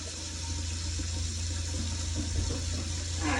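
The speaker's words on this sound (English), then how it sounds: "so we're going to warm up the water" A tap runs steadily as water is warmed for a Cavalier King Charles puppy's bath, giving a constant, fairly close rushing flow that continues evenly throughout without any voices.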